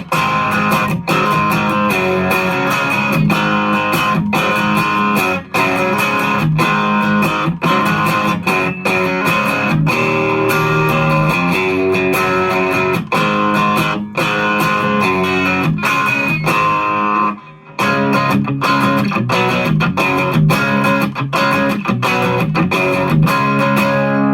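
A 1967 Fender Coronado II electric guitar through a Timmy overdrive pedal plays continuously with a gritty, crunchy, thin tone with little bass, chords and notes ringing loud, with a brief pause near the end.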